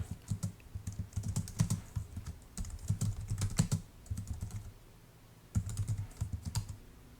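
A computer keyboard clatters with bursts of quick keystrokes as a password is typed, close and quiet, with a brief pause before a final flurry of keys.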